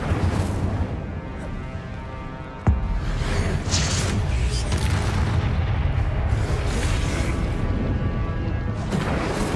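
Confringo and Incendio spell blasts from Hogwarts Legacy boom and crackle in a dense, loud barrage, with a sharp thump a few seconds in and continuous rumbling bursts after.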